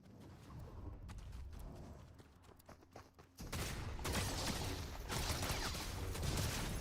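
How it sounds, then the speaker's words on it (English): Gunfire from a shooter video game: a soft, rapid spatter of shots under a muffled game backdrop, growing denser and louder about halfway through, with a busy, continuous crackle of fire to the end. "Somebody's shooting at me like a shooter."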